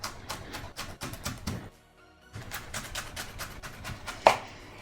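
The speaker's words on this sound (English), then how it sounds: "These are one of the awkwardest vegetables to cut when they're like really hard like this." A sharp knife chops repeatedly through a very hard raw potato, cutting it into batons. Rapid, evenly spaced crunching strokes come close and clear, pause briefly, then resume with a louder final chop.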